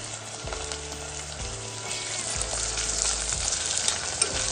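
Cream paste sizzling and being stirred in hot oil for veg pulao, a steady close frying hiss with occasional scrapes of the spoon and no voices.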